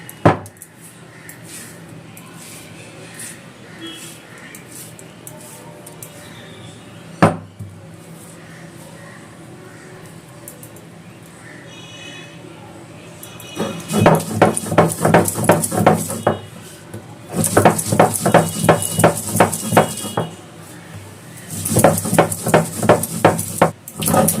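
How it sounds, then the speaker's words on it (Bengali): Spices are ground into a fine paste for Bengali katla fish paturi, heard as close, rhythmic bursts of scraping strokes that start after a quiet stretch and continue in steady runs, with no talking. "মশলাটা মিহি করে বেটে নেব"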